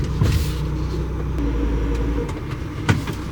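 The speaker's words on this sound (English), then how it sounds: "There's cars behind him as well." Cars queue behind a bus on a narrow UK country lane, their engines a steady, close low rumble with a brief louder bump near the end.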